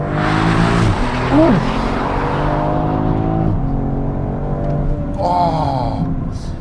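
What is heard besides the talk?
Alpina B3 Touring accelerating in sport mode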